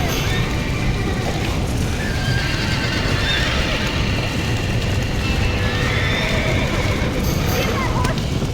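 Horses neigh and gallop with a steady hoof clatter in the Red Dead Redemption video game, amid loud action noise and voices shouting over the hoofbeats.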